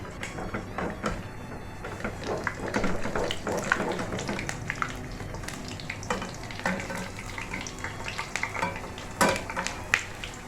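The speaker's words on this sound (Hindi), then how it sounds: "इसी तरह सारे 1 बाय 1 फ्राई करके जाऊंगी" Bread pakora frying in oil with a steady crackling sizzle, punctuated by occasional scraping stirs and clinks of a utensil, close and moderately loud with no talk.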